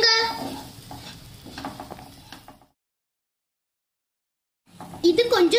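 Maida flour being stirred into melted butter in a pan for white sauce, giving soft scraping and sizzling strokes that stop abruptly and then resume more sharply after a silent gap.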